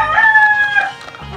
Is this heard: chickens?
yes